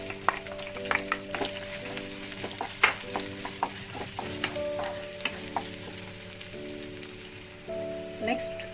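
Onion frying in oil with cumin, slit green chili, coriander leaves and curry leaves for a mixed vegetable soya curry, a continuous sizzle with frequent spoon stirs and scrapes, close up, with faint background tones.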